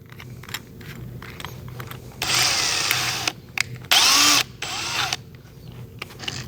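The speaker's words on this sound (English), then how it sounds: "So I'm going to load this up into a drill," Hand drill spinning up in short bursts while turning a pen blank flush with its brass tube, a loud steady whir for about a second and a half, then a brief higher pitched run and a third shorter burst, with quiet workshop noise between.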